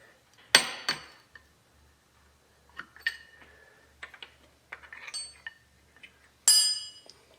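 Metal clicks and clinks from a wrench cracking loose 8mm bolts on a Suzuki RM-Z250 dirt bike engine during an oil change, a few sharp separate ticks and taps spread out with quiet gaps between them, close up.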